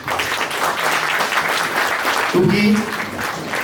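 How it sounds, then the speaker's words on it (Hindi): Audience applause at an event in India honouring a young woman named Anshika, a dense steady clatter of many hands under a voice that breaks through briefly near the end. "एक जोरदार तालियां,"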